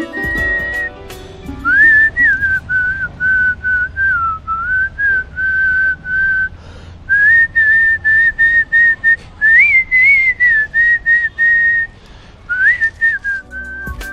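Someone whistles a tune by mouth, a clear sustained melody of held and gliding notes with short breaths between phrases, loud and close with no talking.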